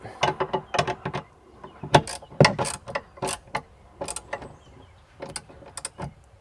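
A ratchet wrench tightening a bolt on a cargo rack mount of a 2021 Ford Bronco, giving repeated rapid clicking bursts in quick strokes with short pauses, close and loud.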